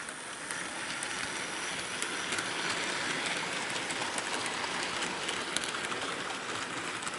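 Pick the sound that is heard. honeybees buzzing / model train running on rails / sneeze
model train running on rails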